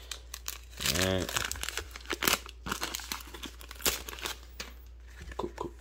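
A baseball card pack wrapper, a 1988 Collectors Edge pack, crinkles and tears close to the microphone in short rustling bursts, with a person talking over it.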